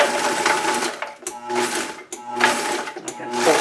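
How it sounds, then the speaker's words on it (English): Blender pulsing crushed eggshells for garden nutrition, loud whirring bursts rising and cutting off several times in quick succession, with brief gaps between pulses. "Oh, I better get the cover on this blender to be able to do this."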